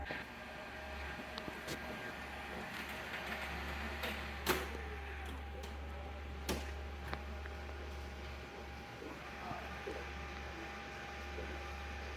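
An OKI Pro1050 label printer runs a two-label job, a quiet mechanical hum with scattered ticks and sharp clicks as the media feeds, a voice speaking briefly over it.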